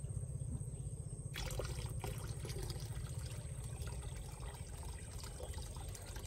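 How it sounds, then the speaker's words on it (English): Water pours steadily into a 20-liter hydroponic DWC bucket with a net cup for growing tomatoes, a continuous close trickle and splash that shifts partway through and keeps running to the end. "we'll take this water and fill this water till it touches to the bottom of the net cup"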